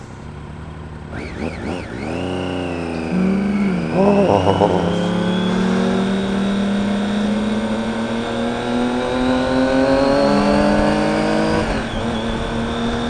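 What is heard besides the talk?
car engine revving and accelerating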